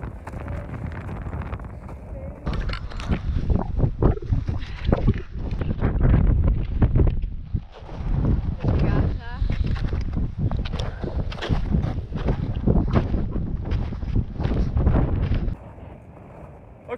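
Cold wind gusts across a mountain col during a ski-mountaineering ascent, roaring and buffeting the microphone almost constantly, with bursts of clatter and movement noise as a person talks over it.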